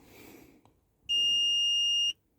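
A single steady electronic beep lasting about a second comes from a car diagnostic scan tool during an oil service reset on a VW Passat 2.0 diesel. It sounds loud and clear over a faint background.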